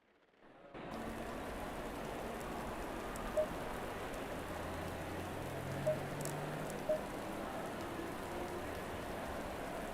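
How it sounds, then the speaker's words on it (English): Medium rain in a racing video game at the Kyalami circuit kicks in after a short silence and holds as a steady, even wash of rainfall with a low rumble beneath and a few faint ticks. "medium rain"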